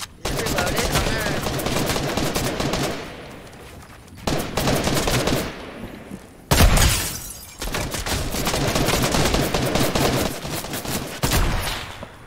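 In Fortnite, shotgun and sniper rifle fire cracks out in loud, rapid bursts of shots separated by short pauses, with heavier single blasts standing out, and occasional speech in between.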